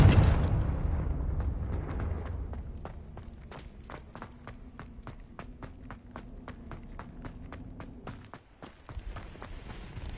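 A Confringo blasting spell goes off in Hogwarts Legacy with a loud burst at the start that decays into a rumbling tail, followed by a long run of even, rhythmic footsteps and a closer thump near the end.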